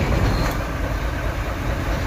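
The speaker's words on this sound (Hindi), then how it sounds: "ले जी गाड़ी हो चुकी है हमारी स्टार्ट" An actor vehicle's engine idles after being started, a loud steady rumbling drone with dense low-end noise and no talk.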